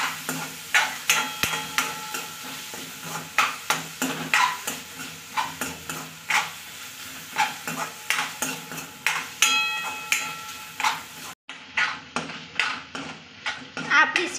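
Sliced capsicum and tomato are sautéed in a pan for masala pav, with repeated spatula scrapes and taps against the metal over a soft sizzle, close up and rhythmic, while a voice talks at times.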